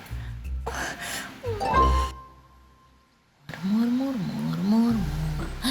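A cat meows in a wavering, drawn-out call in a Ukrainian children's puppet show, following a short clink and a moment of silence.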